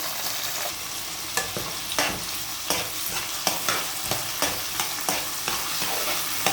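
Potatoes, onion, green chillies and mint frying in a pan, a loud continuous close sizzle broken by regular stirring scrapes about every half second, with no talk.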